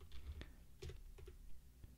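Keystrokes on a computer keyboard while entering a line of Blender Python script, a few quick scattered clicks at close range over a low background hum.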